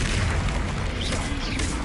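A Confringo blast spell detonates in Hogwarts Legacy, a dense booming explosion that fills the short moment at close range and stays loud throughout.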